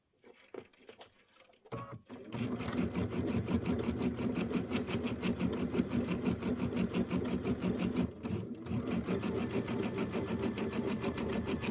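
A sewing machine runs steadily while piecing Kimberbell Hello Sunshine quilt blocks, a dense, fast mechanical whir, close and loud, that starts after a couple of seconds of quiet handling and continues with one brief pause.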